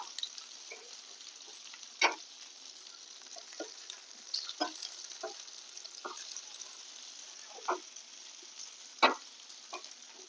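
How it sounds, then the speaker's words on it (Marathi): Pea and potato cutlets fry in a pan of oil with a soft, steady sizzle, broken by scattered small pops and crackles, a few louder than the rest, and no talking. "सगळ्या साईडने आपले कटलेट इथे छान आता तळून झालेले आहेत"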